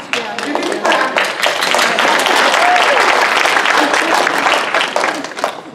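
Audience applause at a talk on addiction recovery, a dense burst of many hands clapping that swells quickly, holds steady and loud for several seconds, then tapers off at the end.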